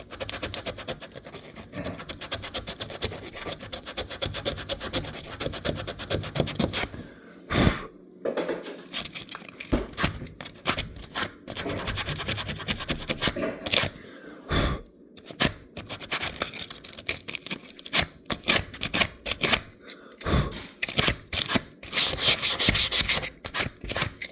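Hand sanding a window frame with 80 grit sandpaper: steady, close, rhythmic rasping strokes that run continuously with brief pauses between bursts, loud and alone without talk.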